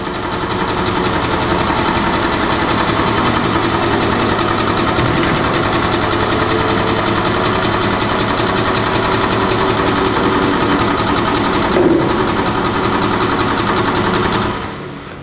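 An STS DMP01-EX drum mixer tumbles an oil drum with a loud, steady mechanical whir and rhythmic rattling that holds constant, then winds down and stops near the end.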